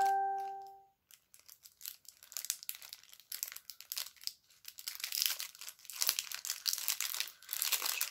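A gift package is unwrapped, its paper crinkling and tearing in bursts of dry rustling that build and continue steadily at close range, after a brief electronic chime at the start.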